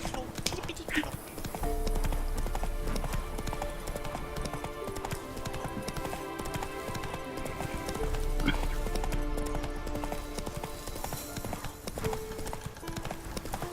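Hooves of a horse clip-clopping along in The Witcher 3, a steady game-audio trot mixed with music and occasional voices speaking over it.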